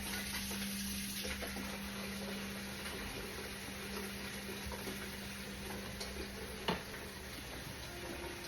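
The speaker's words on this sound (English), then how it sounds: "As you can see, it's boiling, it's bubbling from the sides" A pot of chili beans bubbles and simmers steadily on low heat, a continuous soft hiss with faint pops, close up and with no talking.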